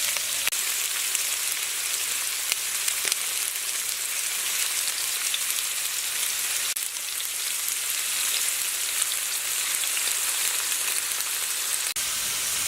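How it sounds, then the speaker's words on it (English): Tofu pieces fry steadily in a pan for salt and pepper tofu, giving a continuous, even crackling sizzle like light rain that holds at a constant level throughout with no voices. "tofu's been cooking away for a little while now"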